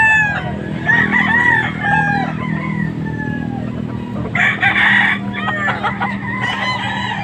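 Several young stag roosters crow repeatedly in Pampanga, Philippines, overlapping near and farther off, with clucking and a low engine hum in the background.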